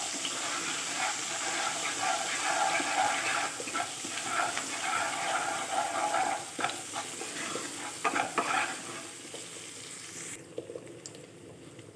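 Grated ginger sizzles in hot oil in a kadai already holding cumin seeds, dried red chillies and bay leaves, a steady close frying hiss with stirring scrapes that thins out near the end.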